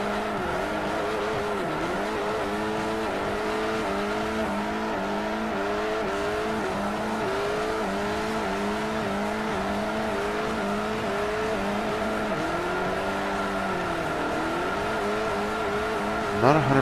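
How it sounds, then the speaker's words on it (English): An aggressive four-cylinder race car engine in Forza Motorsport 4 revving hard, its pitch climbing and dropping repeatedly as it shifts through gears, steady and close. "It's an angry sounding 4-cylinder."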